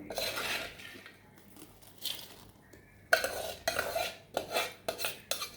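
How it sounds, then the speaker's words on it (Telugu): Metal spoon scraping and clinking against a steel bowl while tempering is stirred into fried puffed rice (muramuralu), with dry rustling of the crisp grains; repeated close scrapes in bursts, louder toward the end. "పోపు వేరే వేసుకొని కలుపుతున్నాను"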